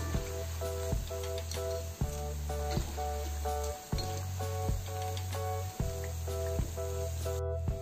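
Spinach pakoda frying in hot oil over a normal flame, a steady sizzle running throughout with faint clicks and scrapes, and no talking.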